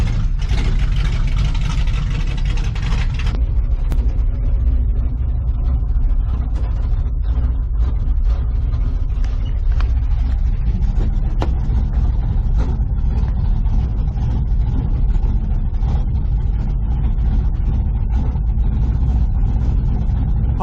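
A 1970 GMC truck with poor brakes rolls along, its engine giving a steady low rumble close by for the whole stretch, with a brief brighter noise burst at the very start.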